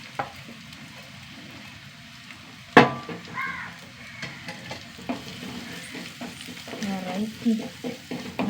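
Sliced onions fry in a pan with crushed chili, a soft steady sizzle broken by a sharp utensil clank and repeated stirring scrapes and taps.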